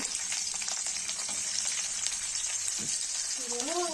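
Onion frying in a pan of hot oil with peanuts, curry leaves and green chili for jhal suji upma, a steady close sizzle and crackle, with a voice speaking briefly near the end.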